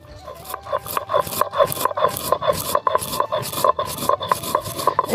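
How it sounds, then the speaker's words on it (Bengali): Roasted coriander and cumin seeds being ground into powder while still hot, a close, steady run of rhythmic scraping strokes repeating about twice a second, with no voices. "এই ধনে আর জিরাটা গুঁড়ো করে নিচ্ছি।"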